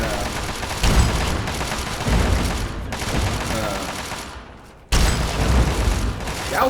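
Gauss rifle fire in Fallout 3's Operation Anchorage, with repeated heavy sci-fi weapon shots, booms and mechanical clatter that keep going under someone talking over the battle.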